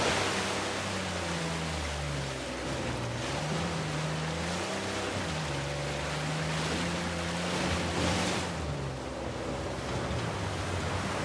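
Broad, steady roar of a waterfall in Uncharted 4, a continuous wash of falling water heard alone with a low tonal music bed beneath it.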